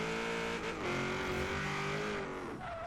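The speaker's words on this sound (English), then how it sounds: "you can see just banking off the rev limiter at first there" Turbocharged V8 Hummer in Forza Horizon 3 revving hard against the rev limiter, a sustained buzzing engine tone that wavers and bounces near the top of its range.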